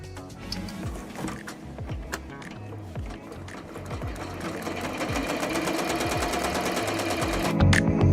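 An embroidery machine stitches a design onto a golf bag with a rapid, steady mechanical clatter, close and continuous, growing slightly louder and denser toward the end.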